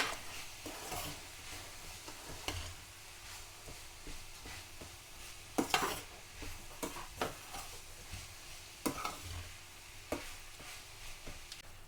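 Leeks cook gently in a pan as filling for Sri Lankan chicken patties. A quiet low sizzle runs throughout, punctuated by periodic spoon scrapes and taps against the pan at a close distance.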